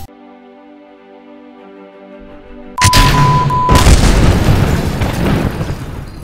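A rocket launches in Kerbal Space Program: a low engine hum gives way to a sudden loud roaring blast that rumbles on thickly and stays loud to the end.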